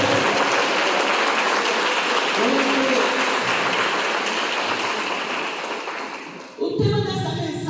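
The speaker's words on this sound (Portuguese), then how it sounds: "Você pode dar um aplauso à palavra de Deus?" Church congregation applauding during a celebration service, a dense steady clapping wash that carries on for several seconds before tapering off, with a voice briefly heard near the end.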